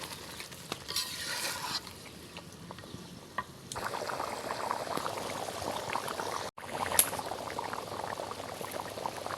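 Mutton curry broth simmers in a pot, giving a soft continuous bubbling and hiss with occasional clinks and stirring sounds. It is close but fairly quiet, with a brief drop near the end and no talking.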